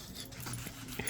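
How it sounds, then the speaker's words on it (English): A dog at home lets out close, restless whimpers and short yips in quick succession. "Noisy dog. She hasn't been for a walk."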